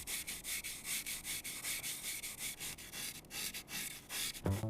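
A piece of aerogel is handled right against the microphone, giving a rhythmic series of close, dry scratching and rubbing strokes, with a soft bump at the end.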